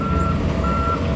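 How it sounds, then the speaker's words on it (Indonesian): Heavy machinery and dump trucks hauling fill at a toll road construction site on a Wednesday afternoon, a steady loud low rumble of engines with a continuous reversing beep tone running over it, no talk. "Cukup banyak sekali alat berat yang beroperasi pada sore hari ini, dan juga mobil truk timbunan yang hilir mudik di kawasan ini"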